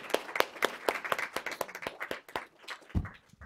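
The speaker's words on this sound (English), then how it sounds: "A very much deserved round of applause" Audience clapping after a presentation on maternal health and HIV, a small group of sparse, uneven hand claps that thin out toward the end, fairly close and unaccompanied by talk.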